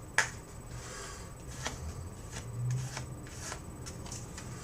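A quick riffle of playing cards being shuffled, soft and close, with a sharp snap at the start and quiet room noise after.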